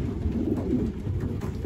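Pigeons cooing during feeding, low soft throaty coos repeating close by over a brief stretch, alone without voices.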